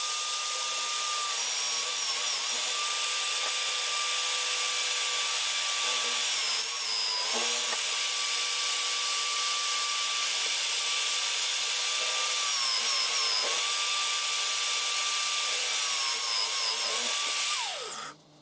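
A power drill bores a 5 millimeter tapping hole for a CNC router bracket, a loud continuous whine with a steady motor tone that wavers and dips under load several times before spinning down at the end.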